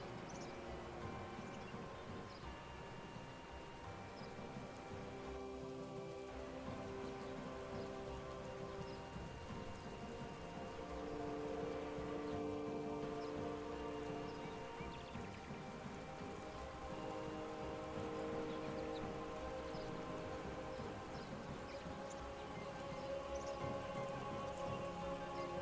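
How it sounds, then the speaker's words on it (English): Steady rain recording playing continuously, a dense even patter of drops on a surface with faint distant rumbles, constant and moderately loud throughout. "I play rain sounds"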